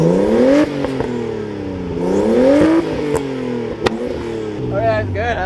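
A Nissan R32 Skyline engine with a new exhaust revs up repeatedly in rising sweeps, with sharp crackling pops from the exhaust between pulls, close and loud.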